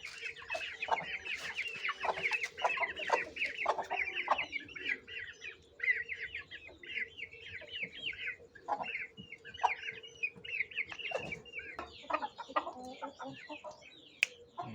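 Aseel hens clucking nearby, with repeated bursts of chatter and calls, some louder squawks, and quieter stretches of a steady low background hum in between.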